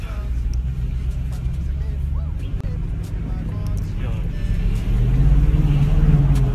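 A car engine runs with a steady low rumble, swelling into a louder rev near the end, with faint background voices.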